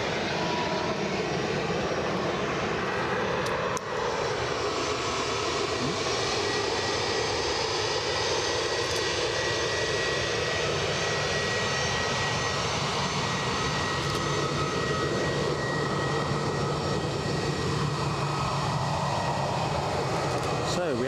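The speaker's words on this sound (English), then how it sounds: "EasyJet taxiing past us on its way to Geneva." A Swiss-registered EasyJet airliner taxis past at Edinburgh Airport, its engines producing a steady, loud roar that holds throughout, with a faint voice over it.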